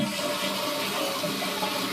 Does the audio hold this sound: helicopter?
no